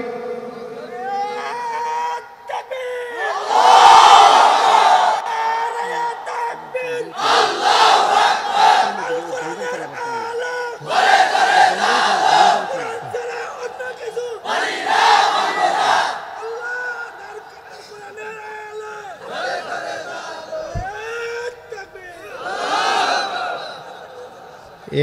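A large crowd at an outdoor Islamic religious gathering (mahfil) in Madhupur, Tangail, shouts a slogan in Allah's name in repeated loud bursts, roughly every few seconds, with a leader's call and brief pauses between the mass responses.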